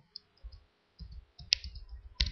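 Computer keyboard typing and clicking in short, sparse clusters of soft, close keystrokes with a few sharper clicks, quiet overall with brief pauses and no talking.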